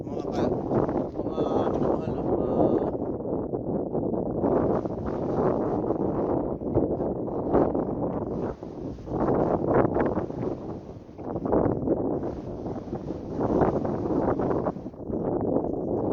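Strong wind roars loudly and steadily across the microphone, rising and falling in gusts while someone speaks through the rumble.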